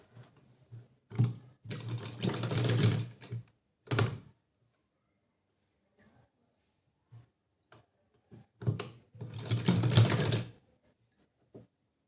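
A sewing machine stitching a salwar seam up to the cut, with short whirring bursts of stitching between quiet pauses and scattered clicks and thunks nearby.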